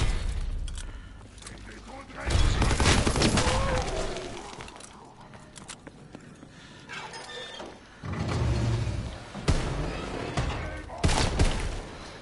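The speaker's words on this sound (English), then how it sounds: "The shotgun's killing it right now." Shotgun blasts from Call of Duty: WWII Zombies ring out in loud bursts with gaps between them, layered over game noise and speech.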